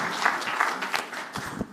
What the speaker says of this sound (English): Another round of applause to the advocate for Construction Law 101.